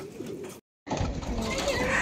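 Pigeons in a loft coo softly nearby, their low murmurs broken by a brief silence before a denser, louder stretch of cooing and rustling.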